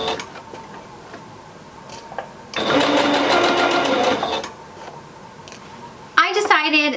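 A sewing machine stitches down the sides of a Rapunzel-style dress in one steady, close run of about two seconds, with quieter handling noise before and a sharp clatter at the end.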